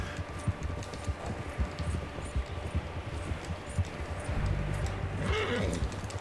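Rhythmic hoofbeats of a horse clip-clopping at a steady pace in Red Dead Redemption 2, with a brief whinny near the end over a soft background.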